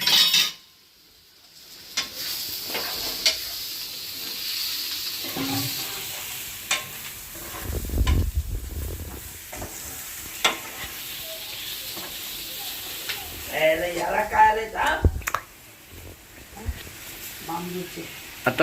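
Boiled bamboo shoots and Everest masala are stirred and sautéed in a pan, giving a steady sizzle with repeated scraping and clinking of a spoon, under a voice talking throughout.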